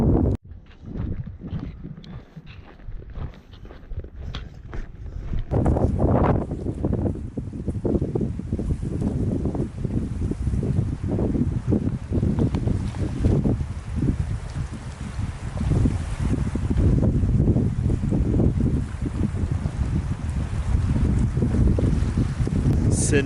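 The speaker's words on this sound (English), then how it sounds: "Now I can hear the waves gently crashing." Waves wash in steadily against the shore of Lake Elizabeth in Glacier National Park, their rush blending with gusts of wind buffeting the microphone. Continuous and fairly loud, with no voices.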